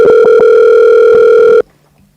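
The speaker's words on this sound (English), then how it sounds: "Me I call you, man. Answer your phone," A telephone dial tone hums loud and steady while a call is placed, then cuts off abruptly, leaving near silence.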